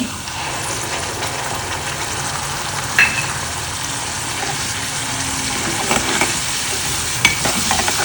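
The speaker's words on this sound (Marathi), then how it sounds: "चांगलं परतून घ्यायचं आहे तेल सुटेपर्यंत" Green masala paste with curry leaves frying in oil for an Agri-style Bombay duck curry, a steady close sizzle with stirring scrapes running throughout, fairly loud and without speech.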